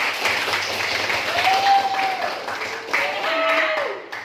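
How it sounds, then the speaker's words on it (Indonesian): Classroom applause in an Indonesian language lesson, a steady wash of clapping from students that runs throughout, with tonal voices or whistles rising over it. "Tepuk tangan buat apa?"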